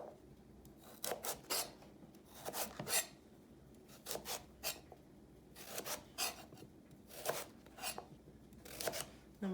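A kitchen knife cuts vegetables into oblique pieces on a cutting board, producing quiet clusters of crisp slicing and scraping strokes in uneven bursts, close by and alone.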